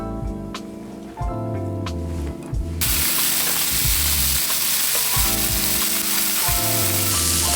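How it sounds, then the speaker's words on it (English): Sausage browns in olive oil in a saute pan, a close, loud sizzle that jumps in intensity partway through and then holds as a dense, steady crackle, with a few clanks at the start. "My sausage is browning."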